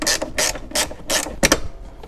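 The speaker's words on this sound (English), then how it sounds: "So now, just removing the bottom bolts, and this thing should come right out." A ratchet wrench clicks in five quick bursts while backing out the lower bolts of an HVAC box in a Fox-body Mustang's dash, close and crisp with short pauses between strokes.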